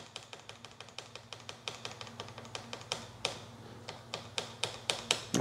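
A static WEP key is typed on the keyboard of a Windows 95 computer as a steady run of crisp, close keystrokes at a brisk, even pace over a constant low electrical hum.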